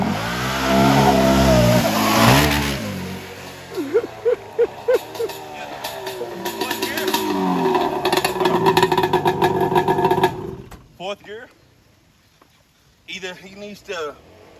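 A Yamaha Banshee ATV engine revs hard and loud up close, climbing and dropping through repeated throttle blips, then fades before a few more sharp revs near the end.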